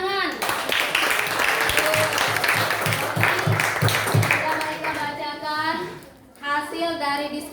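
Classroom applause for a student group after their presentation on reproductive organs, a burst of hand clapping from children that fades toward the end, with voices mixed in.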